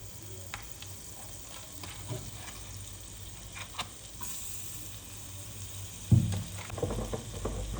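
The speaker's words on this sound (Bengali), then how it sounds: "এবার বেশি করে আমি ওই সেম প্যানটার মধ্যেই বাটার দিয়ে দেবো।" Butter sizzles steadily in a hot frying pan, a constant crackling hiss with a brief louder burst near the end.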